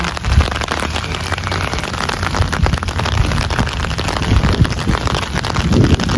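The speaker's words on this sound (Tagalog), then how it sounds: "Grabe lakas ng ulan." A downpour drums hard and continuously in a severe Canadian thunderstorm, a loud, dense wash of rain with some wind buffeting the microphone, and no one speaking.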